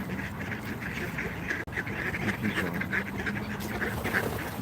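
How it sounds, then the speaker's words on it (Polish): Ducks at a city spot in Warsaw keep up a run of repeated quacks, close and lively over a constant outdoor background hum, with a brief drop partway through. "Pigeon and ducks."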